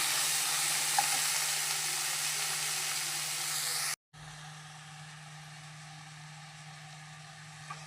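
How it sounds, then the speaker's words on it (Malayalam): Tomatoes and onions sautéing for a prawn and drumstick curry, a continuous hissing sizzle close by, briefly cutting out midway before resuming more quietly. "ഒരു രണ്ട് തക്കാളി മുറിച്ച് അതിനതിൻ്റെ കൂടെ ഇടാം എന്നിട്ട് നമുക്ക് നല്ലപോലെ ഒന്ന് വഴറ്റി എടുക്കാം"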